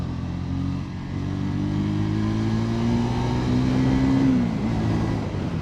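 A Triumph Speed 350 motorcycle engine pulls hard on an expressway, its note climbing steadily through a gear before dropping at a shift, loud and continuous beneath rushing wind, with no voices.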